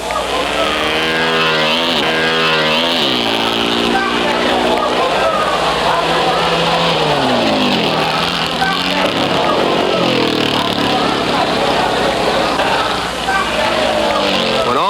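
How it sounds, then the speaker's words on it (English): A race car, number 55, pulls away on a qualifying run with a rear wheel start, its loud engine rising and falling through the gears over a commentator's steady narration. "There goes Riemann, 55, off to a rear wheel start and his try for a front row starting position."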